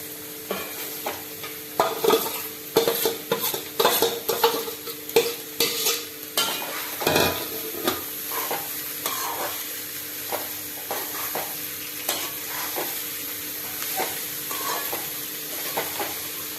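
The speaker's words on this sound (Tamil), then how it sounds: "நல்லா ஒரு வாட்டி கலரி இந்த மாதிரி கொடுத்துடணும்" Vegetables sizzle and crackle in a hot pan while a utensil stirs and scrapes repeatedly, with steady frying noise throughout and no talking.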